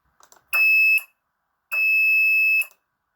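Two loud, steady electronic buzzer tones from an ESP8266-controlled buzzer, the first about half a second and the second nearly a second, separated by silence, with faint clicks before.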